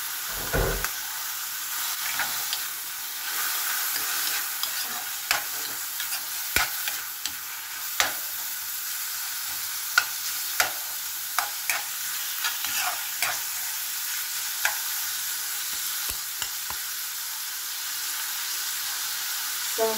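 Minced pork sizzles and fries steadily in a hot pan for stir-fried green beans, with a constant hiss broken by repeated sharp scrapes and clinks of a utensil stirring.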